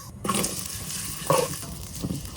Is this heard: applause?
no